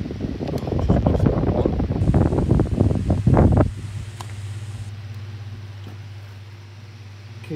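Several 7-inch oscillating desk fans running loud with mixed whirring and rattle, then abruptly cut off, leaving a steady low hum as the blades coast down and fade over several seconds.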